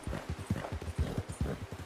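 A horse in a video game moves with a steady clip-clop of hooves, evenly spaced rhythmic thuds, close and clear with no other sounds over them.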